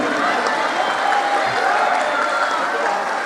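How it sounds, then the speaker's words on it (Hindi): A crowd at a religious gathering claps together in a brief, steady burst of applause, fairly dense and moderately loud. "इनके लिए एक बार तालियां।"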